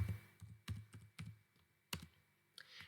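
Keystrokes on a computer keyboard while entering router commands, a handful of separate taps spaced irregularly across a few seconds, close and fairly quiet.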